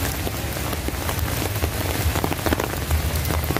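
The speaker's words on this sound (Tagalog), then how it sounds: "Pero pagdating namin dito, ganito nakalakas yung ulan." Heavy rain pours over an outdoor playground at Quezon City Memorial Circle, a dense, constant hiss of drops striking surfaces close by, with no voices.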